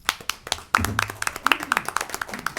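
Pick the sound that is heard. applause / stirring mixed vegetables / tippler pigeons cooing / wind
applause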